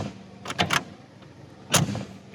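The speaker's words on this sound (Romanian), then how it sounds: "Cum se aude când deschizi și închizi ușa" A Mercedes G500 4x4² door opening and closing: a few quick metallic latch clicks, then a solid, heavy thunk as it shuts, close and fairly loud against a quiet background.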